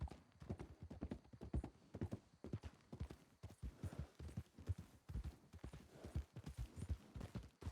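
A tired horse's hooves clip-clop in a quick, steady rhythm in a video game, close and fairly loud, continuing throughout with faint background sounds.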